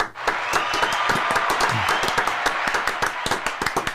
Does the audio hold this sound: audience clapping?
yes